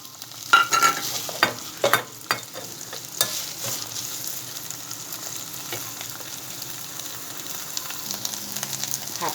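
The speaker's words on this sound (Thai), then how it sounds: "เห็ดหอมนะคะ ผัดให้หอมค่ะ" Shiitake mushrooms and soaked textured soy protein stir-fried in a small pot, with several sharp scrapes and clanks of the utensil early on over a steady, close sizzle that continues alone.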